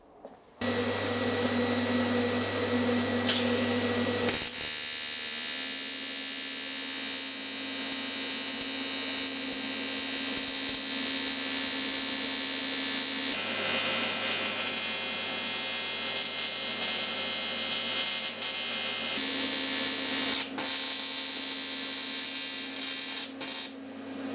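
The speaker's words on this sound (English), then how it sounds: "all I've done is put a good tack on each end just to hold it together" Tack welding on cracked aluminium produces a steady, loud electric buzz with a deep hum that runs almost unbroken for the whole stretch, pausing only briefly near the start. No talk is heard.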